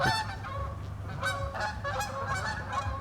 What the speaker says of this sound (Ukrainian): Ці канадські гуси десь полетіли.